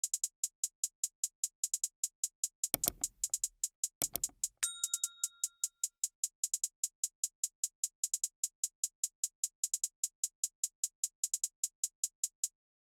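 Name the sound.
hi-hat pattern in a trap beat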